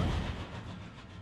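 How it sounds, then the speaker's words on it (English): A brief low rumble with a rattling, rolling texture, like a train passing, fading slightly over about a second: a ghost train in the video game World of Final Fantasy. "There's no mistaking that for the anything but a ghost train."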